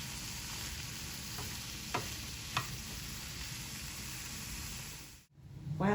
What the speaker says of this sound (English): Use my happy Kool-Aid spoon to stir it up.